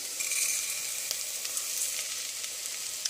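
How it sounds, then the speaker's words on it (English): Rice tipped into hot oil and garlic in a pan for Spanish rice, giving a soft, steady close sizzle with a few faint clicks and no talking. "I'm going to go ahead and add the rice right in."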